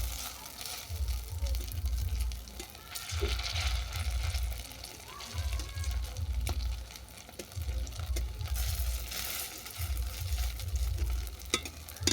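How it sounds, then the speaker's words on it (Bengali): Peanut lentil fritters sizzling steadily in oil, with repeated low thumps and occasional clinks of a utensil turning them in the pan. "বড়াগুলো দু পিট বাদামি করে ভাজা হয়ে গেছে"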